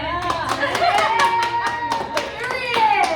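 A small group claps in a short round of applause, sharp irregular hand claps over a couple of seconds with a voice talking over it, close and moderately loud.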